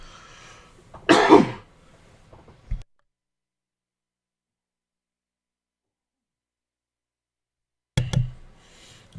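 A single throat-clearing cough bursts out near the mic, followed by a brief knock and a long silence, then a second short cough-like rasp at the end.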